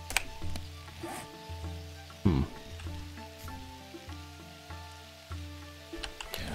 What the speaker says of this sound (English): It likes to rain in this game, just so you know.